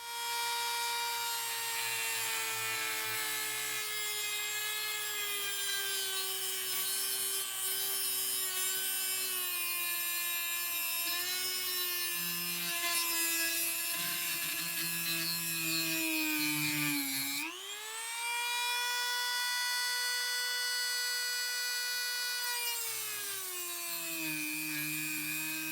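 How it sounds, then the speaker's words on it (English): A Dremel rotary tool cuts off a transmission output shaft during a UGRC Dirty South comp RC crawler build, a steady high-pitched whine with many harmonics that dips and bogs under load near the end, then spins back up, loud and close with no talk. "There's a little bit of Dremel work on the front because this output shaft right here has to get cut off."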